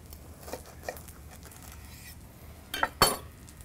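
A knife slices through a chopped cheese sandwich on a board, soft scraping for a few seconds, then two sharper cutting knocks near the end, close and fairly quiet.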